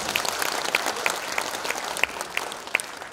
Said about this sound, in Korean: 단장님께 여러분 다시 한번 큰 박수 부탁드립니다.